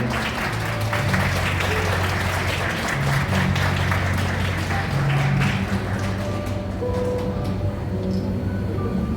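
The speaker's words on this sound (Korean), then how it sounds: "경례 박수 부탁드립니다" Guests at a wedding ceremony in a wedding hall clap continuously for several seconds, a thick, even wash of applause over low sustained background music.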